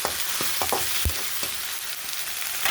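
Ginger garlic paste frying with browned onions in a pan, a soft continuous sizzle broken by a few sharp stirring scrapes and spatters, close and fairly quiet.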